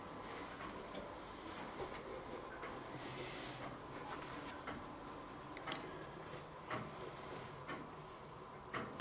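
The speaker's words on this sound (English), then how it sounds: "That is a loud clock." A loud clock ticks steadily inside a still, quiet old hall, each sharp tick spaced evenly over a faint background hum.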